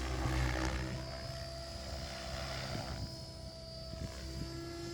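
An RC helicopter flying piro corkscrews, its rotor and motor giving a steady droning whine with a faint tonal hum, heard at moderate distance and fairly quiet, continuous throughout with no talk.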